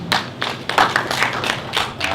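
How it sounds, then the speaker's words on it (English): Scattered hand clapping from a young professionals' gathering at a regional inauguration, irregular and sparse bursts of claps rather than a full sustained round, fairly close. "I'd like to give every young professional in this room a round of applause, please."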